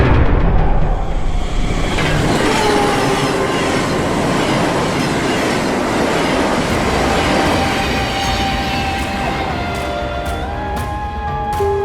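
An Indonesian KRL commuter train in the Trollge Incident video game rolls steadily, with loud dense rumble, clattering wheels and faint squealing throughout, and no voices.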